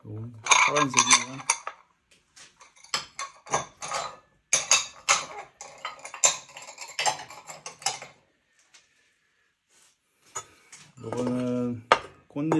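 Ceramic rice bowls and dishes being taken out of a kiln and handled, with scattered clinks and clatters of pottery knocking together, near and moderately loud, alongside brief voices.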